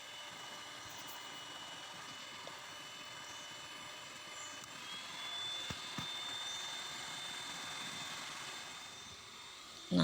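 An electric mixer beats cake batter for a marble sponge made with four eggs at high speed, a steady, fairly quiet motor whine running unbroken throughout.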